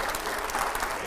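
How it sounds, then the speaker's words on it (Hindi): An audience claps at a political event in India. It is a short burst of dense, steady applause heard at close range. "चलिए, जोरदार तालियां हो।"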